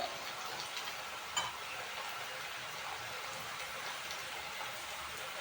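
Cumin seeds spluttering and crackling in hot oil in a pan while making okra bhaji, a steady dense hiss of fine pops throughout with one sharper crackle, fairly quiet and without talk.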